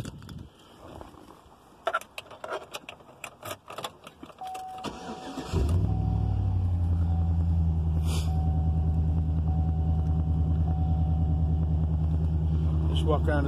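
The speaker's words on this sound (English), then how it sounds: "I'm just going to start up so you can hear the exhaust" A 2013 GMC Sierra 1500 pickup engine cranks and catches around the midpoint, settling into a loud, steady low exhaust rumble at idle; scattered clicks and handling noises come before it.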